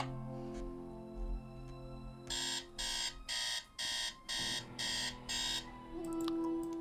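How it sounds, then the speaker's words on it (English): Alarm clock ringing in the Nancy Drew game Message in a Haunted Mansion: a loud electronic alarm beeping in seven regular bursts over quiet game ambience, then stopping. "Let's set our alarm at 3 and let's look back in Abby's room."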